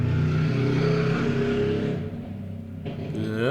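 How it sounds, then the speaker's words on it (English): A loud motorbike passes nearby, its rough harmonic engine note rumbling steadily, dipping briefly, then climbing again as it revs away. No one speaks. "loud motorbike"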